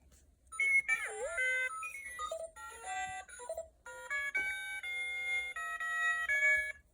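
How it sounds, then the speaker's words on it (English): A toy robot beeps and chirps in a string of electronic tones, some sliding up and down, playing almost continuously at moderate volume. "I light up and beep now that I had my sleep"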